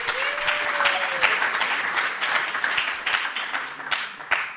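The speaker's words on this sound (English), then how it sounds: "Please give him another round of applause." Applause from the audience at an innovation showcase for African universities in South Africa, with loud, uneven clapping and a few sharp individual claps standing out. A brief tone sounds early, and the clapping thins toward the end.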